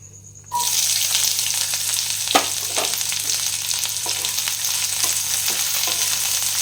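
Onions hit hot oil with a sudden loud sizzle that holds steady, punctuated by occasional scrapes and taps of stirring.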